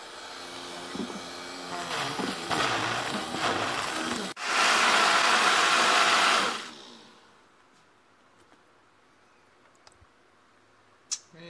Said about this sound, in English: I'm gonna throw it in the Vitamix and make a little slurry for the worms